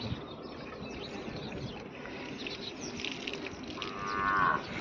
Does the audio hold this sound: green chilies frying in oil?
no